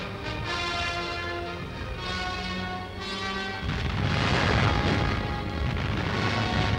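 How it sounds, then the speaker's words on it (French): German artillery fires in a World War II newsreel, heavy booms and rumbling blasts rolling under a dense, noisy old soundtrack with tonal music-like layers, growing louder and rougher midway. "Die deutsche Artillerie nimmt den Feind unter Feuer."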